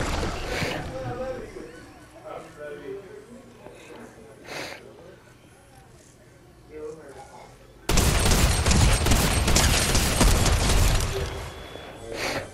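Rapid automatic gunfire in Fortnite bursts out loud and dense in the last few seconds, after a quieter stretch of game sounds and scattered shots.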